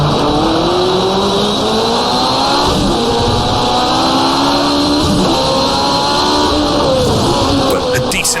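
A 1985 CART turbo race car in rFactor2 roars loudly near a chicane, engine pitch climbing and dropping through gear changes, with other cars close by and a brief tyre squeal near the end.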